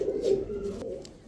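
A pigeon gives a soft, close, throaty coo, one brief rolling call with no talk over it, with three pigeons sitting on a perch.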